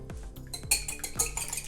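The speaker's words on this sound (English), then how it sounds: "we're going to start by beating up 2 eggs" Eggs beaten in a bowl with a utensil, a few quick clinking strokes against the side of the dish, close and fairly quiet, with no talking.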